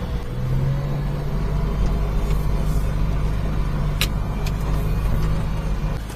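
A mini truck cruises along a road, its small engine giving a steady, continuous hum and rumble from inside the cab, with faint ticks and clicks over the top.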